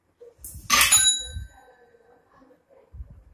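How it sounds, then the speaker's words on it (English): Small bell on a measuring wheel rings once after one meter of rolling, a single bright ding that rings out and decays, with soft handling thumps before and after. "So whenever we rotate it, it rings a bell after completing 1 meter of distance."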